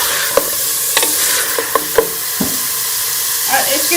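Beef sizzles and fries in a pan as it is stirred for balti gosht, a steady loud hiss broken by scattered clicks and scrapes of the spoon against the pan.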